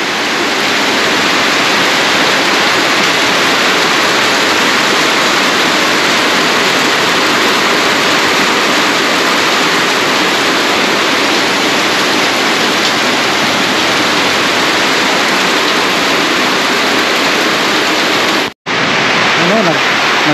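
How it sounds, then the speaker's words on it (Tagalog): Heavy typhoon rain and rushing floodwater crossing a road, a loud, steady roar of broadband water noise filling the whole stretch, with one brief cut near the end. "Nagkakali na at malakas na ang ulan."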